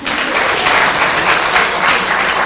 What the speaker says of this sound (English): You clap for him, you people.